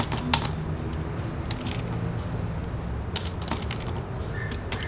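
Quick typing on a computer keyboard, a short run of light close key clicks over a steady background hum, no talking.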